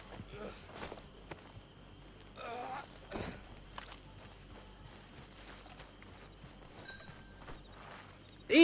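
Horse hooves clip-clop along in Red Dead Redemption 2, with occasional neighs and whinnies, fairly steady footfalls under game ambience and faint breathy sounds.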